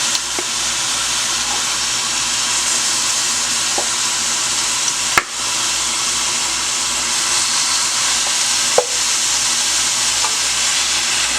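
Goat meat for Bajan-style curry goat hisses and sizzles steadily in a hot pot, a loud continuous frying noise with a few sharp clinks of stirring and no talking.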